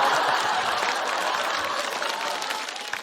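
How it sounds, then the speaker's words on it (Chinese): Audience applause at a stand-up comedy show: a short burst of dense, steady clapping from a crowd. "让我们把掌声送给5哈的重点邓超老师"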